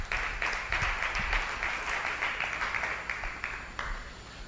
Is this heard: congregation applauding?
yes